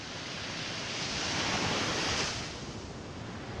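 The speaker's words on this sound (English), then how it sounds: "sound of the waves." Small waves wash steadily onto a sunny beach at Pacifico, San Isidro, Siargao Island, a broad continuous surf hiss that swells in the middle and then eases, with some wind noise and no talking.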